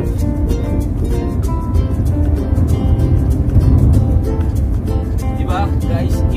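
A Honda Accord project car drives along with a steady, loud exhaust drone and engine hum close by, while a voice talks over the engine noise.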